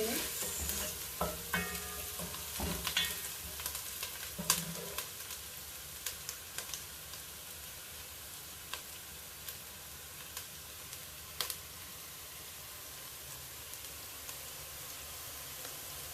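Onions frying in a pan for Githeri, a steady close sizzle with crackling pops and occasional spatula scrapes and stirring clinks, no voices.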